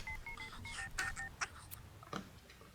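Telephone keypad tones from a phone in The Sims 2 beep in a quick run of short, clear dialing notes, then a few sharper clicks follow, close and moderately quiet with no voices.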